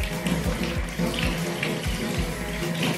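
Water runs steadily from a tap as freshly harvested homegrown tomatoes are rinsed in a sink, a close, continuous splashing with small knocks and shifts throughout and no talking.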